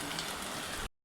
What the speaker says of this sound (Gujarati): આમ જો હવે થઈ ગયો છે વરસાદ ચાલુ.